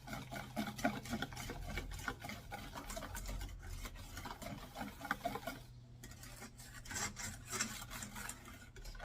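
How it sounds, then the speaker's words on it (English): Kahlua being stirred into a thick tiramisu cream mixture: a steady, soft, wet scraping and swishing of a utensil through the cream in a bowl, close and continuous with a brief pause midway. "So I'm gonna add in 2 ounces of my kahlua right into this. Just stir it up."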